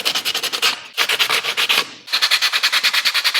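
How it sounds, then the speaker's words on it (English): Sandpaper rubs back and forth over a 3D printed plastic part in quick, even strokes, three short bursts of steady scratchy rasping, close and alone with no talk. "So a little bit of sandpaper, I'm gonna clean up that residue"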